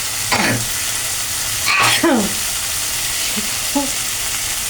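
Fried prawns and chickpeas sizzle loudly in a hot pan as they are stirred, with steady frying hiss and a few scraping stirs close by.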